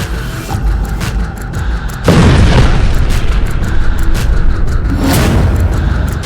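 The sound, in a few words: Iranian missile explosion in Tel Aviv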